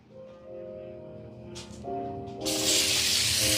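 Peppers, onions and mushrooms hit a hot pan and a loud, bright sizzle rises and keeps hissing steadily, close by, over a faint tonal hum.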